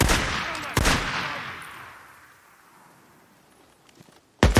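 Gunfire in the video game Days Gone: two sharp, loud shots about a second apart, a long fading echo, then another abrupt shot at the end.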